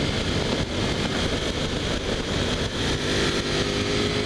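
A Ducati Panigale V4 base model motorcycle on a test ride, its engine roaring steadily and loudly under throttle with wind rush mixed in throughout.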